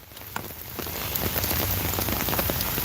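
Rain falls on hard surfaces outside a church in Virginia Beach, a dense close patter of drops that builds from lighter to steady.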